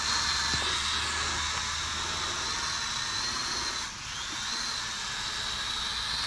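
A cheap E99 brushed-motor WiFi drone flies nearby with a loud, constant high-pitched whine that dips briefly and then steadies again, and no voices are heard.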